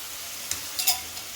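Tomatoes softening in a hot pan, giving a quiet, steady sizzle with a few soft stirring scrapes and light clinks toward the end, alone with no talk.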